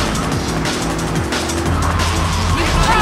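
A car engine in Grand Theft Auto III runs loud and steady at close range, a continuous low rumble with slight shifts in pitch, alone without voices.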